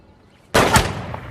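Gunshot at shooting practice in the film The Boy Next Door: after near silence, a single sharp, loud crack breaks out close by and rolls off into a short echoing tail.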